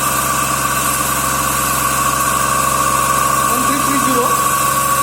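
A DC shunt motor driving a three-phase alternator runs with a steady, loud electrical whine and a continuous mechanical hum in a laboratory setting, with a voice speaking over it.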